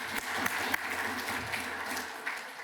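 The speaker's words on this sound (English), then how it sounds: "Round of applause for Python," Audience applause during lightning talks at a Python conference, with steady, moderately dense clapping from a room of attendees that holds at an even level throughout.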